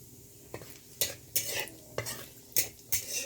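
Cumin seeds and dried chillies hitting hot oil for tempering, a low steady sizzle punctuated by a half-dozen sharp scrapes and clinks of a spatula stirring in the pan, close and fairly quiet.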